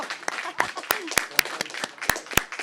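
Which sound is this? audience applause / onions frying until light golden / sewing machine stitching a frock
audience applause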